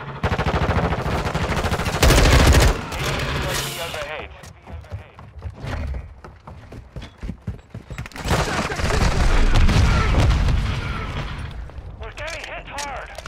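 Heavy gunfire in the Modern Warfare 2 beta, with loud rapid volleys and booming blasts that come in two intense waves around a quieter middle stretch, while a player talks over the action.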